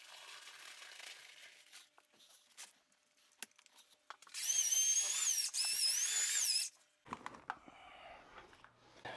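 A power drill with a mixing paddle churns a full bag of tile thinset, whining loudly for about two seconds mid-clip between quieter knocks and scraping, then bumps and clatters after it stops.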